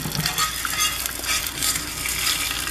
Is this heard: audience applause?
no